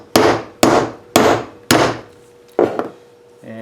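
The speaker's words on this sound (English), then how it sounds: "take the 5/8 punch, put a little dry lube on there, place that in there, give it a couple of whacks" Five sharp, loud hammer whacks strike a 5/8 inch punch seated in a self-centering coin press for coin ring making, evenly spaced with short ringing decays, followed by a fainter metallic clink.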